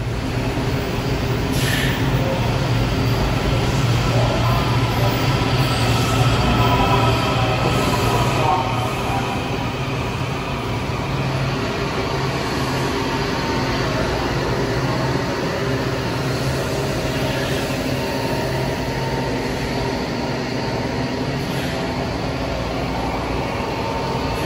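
A metro train at the underground Farragut Square station platform, a steady loud rumble and rolling hum that holds for the whole stretch, slightly heavier early on.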